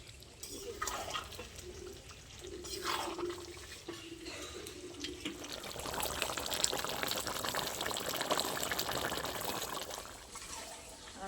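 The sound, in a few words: pouring water into chicken for gravy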